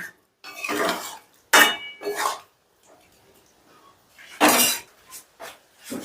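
Potol korma, a vegetarian pointed-gourd curry, is stirred in a pot with a spoon, making scattered close scrapes and clinks of metal in short bursts separated by quiet gaps.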